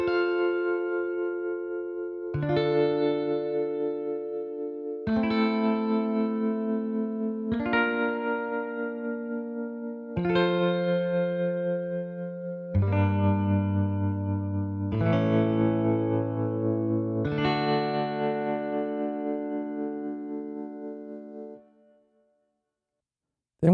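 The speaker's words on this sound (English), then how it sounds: "So here's a minor chord, and there's going to be variations of them." Major guitar chords from the Velvet Guitars sample library, struck one at a time roughly every two and a half seconds, each ringing bright and sustained before the next, with the last chord fading into silence.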